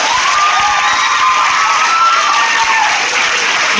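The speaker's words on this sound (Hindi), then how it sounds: "इनके लिए भी जोरदार ताली।" An audience honoring coaching-centre pupils at an award ceremony bursts into loud, sustained applause mixed with cheering and shouts from children, a thick unbroken wall of clapping close by.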